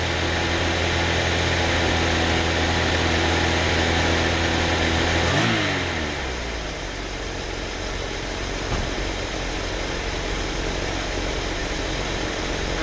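A Chrysler car engine settles from a higher idle to a steady regular idle partway through, with a constant even hum that continues alone to the end.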